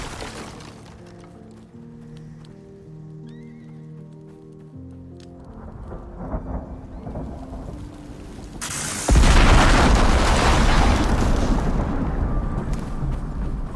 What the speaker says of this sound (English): When a storm rolls in, you feel it. The wind picks up,